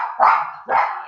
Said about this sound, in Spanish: ya se enojó la perrita, o el perrito